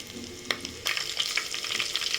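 A green chili sizzles in hot coconut ghee, with soft crackling and a few sharp spatters and stirring scrapes, fairly quiet and close.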